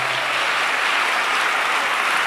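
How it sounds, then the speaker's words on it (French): Audience applause at a French-language church programme, a steady, dense wash of clapping filling the whole stretch without a break. "acclamons pour ce plateau"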